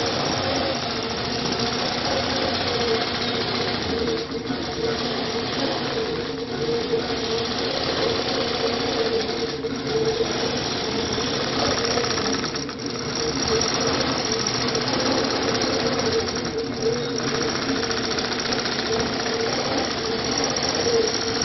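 A long-arm quilting machine stitching a quilt pattern runs as a continuous mechanical hum and rattle, with brief dips every few seconds as it changes direction, and no talking.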